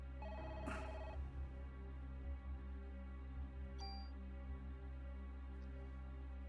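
A telephone rings in the Parasite Eve video game, a short electronic ringing burst near the start over a steady droning game soundscape, followed by a brief chime later on.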